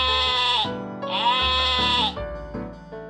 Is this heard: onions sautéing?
no